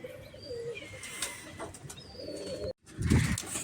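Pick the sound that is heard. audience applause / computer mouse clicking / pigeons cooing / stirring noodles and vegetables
pigeons cooing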